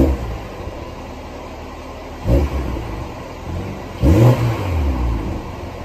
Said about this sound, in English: the X5 S-Drive 40i, has a 335 horsepower 6-cylinder engine